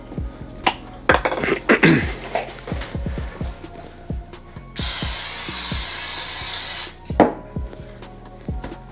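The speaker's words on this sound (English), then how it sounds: "spray the bottom with some non-stick spray" Non-stick cooking spray hisses steadily for about two seconds into a bowl for homemade bagel dough, close and fairly loud, with light knocks and handling clatter of the bowl and dough before and after.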